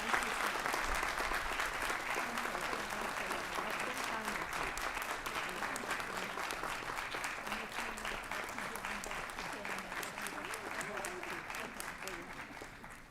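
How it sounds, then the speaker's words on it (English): An audience applauds at a university commencement ceremony, sustained, even clapping from a large crowd that continues for the full stretch and slowly tapers toward the end. "Please join me in a final round of applause for Dr. Faiza Al-Kharafi."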